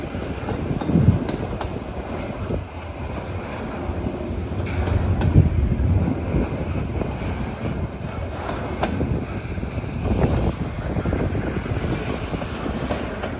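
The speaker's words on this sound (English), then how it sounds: "Lots of intermodal heading east." An eastbound intermodal freight train rolls past a railroad overlook, giving a loud, continuous rumble with rhythmic clickety-clack of wheels over rail joints throughout.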